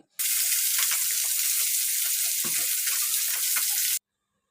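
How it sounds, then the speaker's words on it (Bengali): Taki fish fry in a pan with a loud, dense, even sizzle close by that starts abruptly and cuts off after about four seconds, with a brief clatter midway as the fish are turned. "মাছগুলোর একটা পাশ ভাজা হয়ে গেলে আর একটা পাশ উল্টিয়ে দিচ্ছি"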